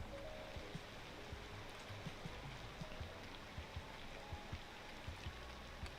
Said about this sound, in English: Hasn't rained in a while, so it's starting to rain again.